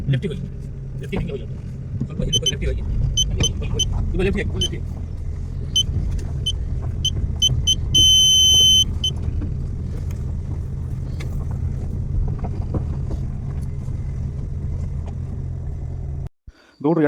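An SUV creeps along a rough, narrow rural road near Sringeri farmland, its engine a steady close rumble with small knocks and rattles as voices talk inside.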